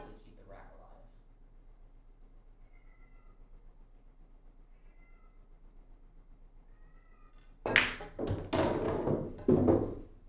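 A cat meows faintly at the start, with soft cries repeating over a quiet room during a live-streamed straight pool match. Loud talking and knocks follow near the end.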